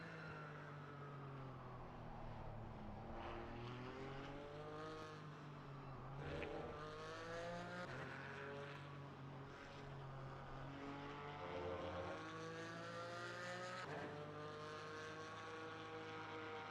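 Race car circuit noise at Misano during a formation lap, a steady engine drone with harmonic pitch rising and falling as the driver weaves and brakes to warm the tires, continuous and moderately loud with no talk.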